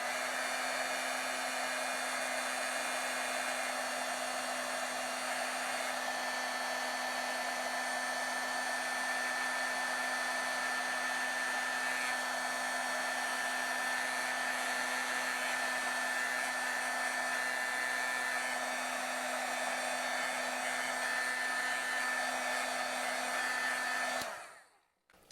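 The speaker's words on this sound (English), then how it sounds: "I don't know if you could tell as I was heat setting that" A heat tool blows continuously to set embossing powder on a stamped card, a steady, loud whirring hum that runs alone for about twenty-four seconds and then cuts off.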